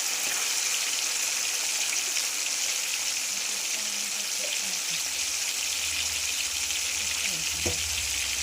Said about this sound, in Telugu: తరువాత మిగిలిన చికెన్ని కూడా ఇలా ఆయిల్లోనే ఫ్రై చేసుకోవాలి.